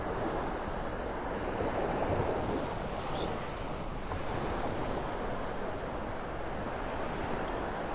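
Ocean surf rolls steadily onto Vanderbilt Beach in North Naples, Florida, a continuous broadband wash of breaking waves with some wind noise on the microphone and no talking.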